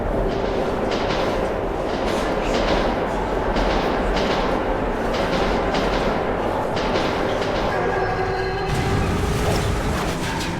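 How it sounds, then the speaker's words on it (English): A train in a tunnel in the video game Metro 2033 Redux rumbles steadily through an enclosed space, with continuous rolling noise, rhythmic clatter and a brief tonal whine near the end. "we entered a ghost train in the tunnels."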